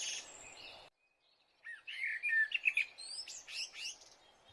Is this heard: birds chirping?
yes